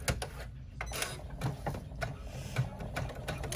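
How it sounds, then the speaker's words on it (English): Embroidery machine stitching a tack-down line on a striped clutch: steady rapid mechanical chatter and needle clicks, fairly quiet and close, running continuously without talk. "Now we're going to run the tack down stitch."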